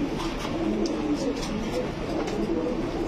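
White Grizzle pigeons coo in a busy pigeon market, a steady low cooing chorus under constant crowd murmur and background noise.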